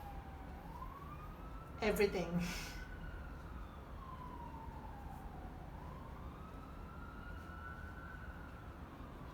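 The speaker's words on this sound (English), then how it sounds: "you can hear the police cars, you can even hear the ambulance" Police car and ambulance sirens wail faintly in the distance outside, the tone rising and falling slowly, while a voice briefly speaks over them.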